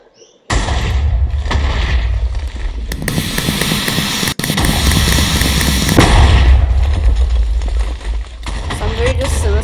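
A suicide bomb explodes in a capture-the-flag video game, a loud sustained blast with roaring debris and continuous battle noise, including a second burst, all played close and dense.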